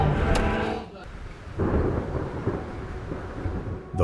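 A thunderstorm over dry, drought-stricken land rumbles with low rolling thunder and a steady hiss of rain, loud and close, swelling again after a brief lull.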